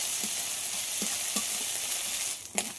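Ginger and garlic paste frying with onion in a pan, a steady close sizzle with a few soft stirring scrapes and a brief louder clatter near the end.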